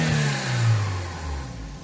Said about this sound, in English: Listen to how much air this thing sucks.